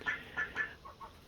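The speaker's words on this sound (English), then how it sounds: "Here's our goose." A goose at a backyard coop gives a short series of nasal honking calls, about five in quick succession, fairly faint and alone.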